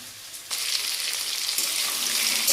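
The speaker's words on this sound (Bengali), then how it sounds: "দেখো আমার সবজিগুলো এখন ভাজা হয়ে গেছে লাল লাল করে।" Vegetables fry in hot oil in a pan for a fish curry, a steady close hiss that swells suddenly after a brief quieter moment and stays loud and crackling throughout.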